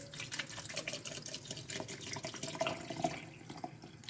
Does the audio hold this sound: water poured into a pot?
yes